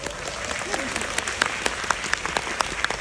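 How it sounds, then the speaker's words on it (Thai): An audience applauds steadily at a performance for the Cutie Pie 2 You final episode, dense clapping with sharper individual claps standing out near the microphone. "ขอเสียงปรบมือให้กับตัวเองนะครับ"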